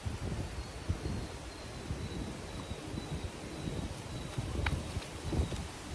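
Gusts of wind buffet a phone microphone outdoors, producing soft, irregular low rumbles and rustling bursts at fairly low level.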